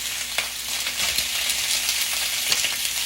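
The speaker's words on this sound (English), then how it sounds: "Just a quick fry." Sausage pieces searing in a hot pan for red beans and rice give a steady, close sizzle with scattered pops and crackles throughout, no talking over it.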